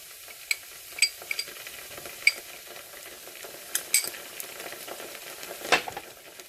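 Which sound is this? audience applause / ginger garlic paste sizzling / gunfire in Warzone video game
ginger garlic paste sizzling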